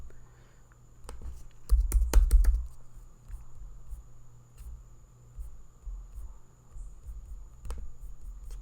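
Computer keyboard and mouse clicks at a desk, a quick cluster of sharp close taps followed by scattered single clicks over a steady faint electrical hum, no talk.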